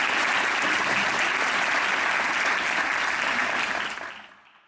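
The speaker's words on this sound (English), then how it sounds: "big round of applause for Andrew" Audience applause for Andrew after a TED-style talk, a dense sustained wash of clapping from a full room that fades out at the end.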